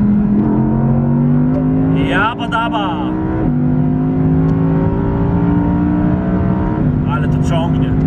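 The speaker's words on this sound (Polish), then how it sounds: "chcę Wam pokazać, jak wygląda przyspieszenie, realne przyspieszenie w tym 620-konnym potworze" An Audi R8 Green Hell Edition with its 620-horsepower 5.2-litre V10 accelerates hard from inside the cabin, its rising engine note broken by quick gear shifts, loud and close, while someone talks excitedly over it.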